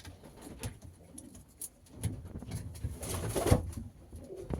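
Pigeons coo in a loft where hens are kept for sale, a few soft throaty calls rising close by against a quiet background, with one louder burst near the end.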